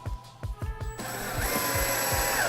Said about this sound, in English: I'll come in and just screw it